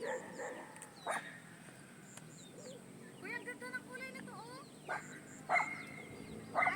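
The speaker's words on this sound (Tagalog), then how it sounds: "Hindi makatuloy gawa ng aking alagang aso." A pet dog gives several barks spread through the clip, mixed with bird cooing and chirping nearby, while people talk in the background.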